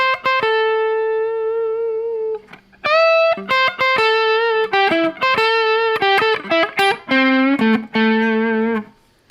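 Gained-up electric guitar played through a Torpedo CAB speaker simulator, with a bright, slightly overdriven tone: sustained notes and chords, then a run of quick choppy phrases. The playing is loud and close, with no talking.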